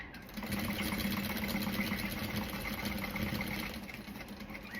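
A sewing machine stitches a quarter-inch seam allowance with a close, steady, rapid mechanical chatter that hums continuously for almost the whole clip and tapers slightly near the end, with no voices.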